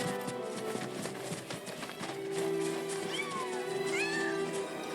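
A cat in Final Fantasy VII Rebirth, near a nest of kittens on a mountain path, gives a few short meows over steady game music and ambience.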